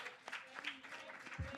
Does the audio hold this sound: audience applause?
yes